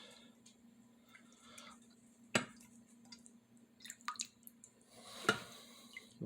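An object bounces into a water tray in a physics lab wave-interference demonstration. It makes soft drips and splashes with a few sharper plinks at a roughly regular pace, over a steady low hum.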